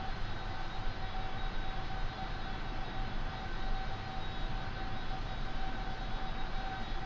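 Virtavia C-17 Globemaster in X-Plane 11 flying over Moses Lake, a steady, droning engine roar with a constant high whine, unbroken and even throughout.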